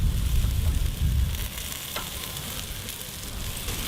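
Bacon-wrapped jalapeno poppers sizzling in a hot pan right after being flipped, a loud crackling fry at first that eases into a steadier, softer hiss, close and without talk.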